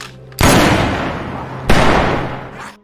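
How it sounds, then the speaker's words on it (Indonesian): Two sharp, loud gunshots in a zombie film, about a second and a half apart, each a sudden blast followed by a long echoing decay. "suara tembakan itu membuat para zombie mulai berdatangan ke tempat mereka"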